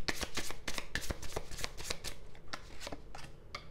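Oracle cards riffled and shuffled by hand in a steady run of crisp, papery flutters and snaps, close and fairly loud, with no talking over it.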